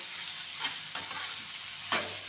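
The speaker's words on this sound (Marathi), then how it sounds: "आता ना त्याच्यात केला आपला हा कांदा चांगला लालसर होईपर्यंत आपण भाजून घेऊ" Onion fries in hot oil in a pan for paneer masala, a steady hiss of sizzling broken by a few sharp scrapes as it is stirred.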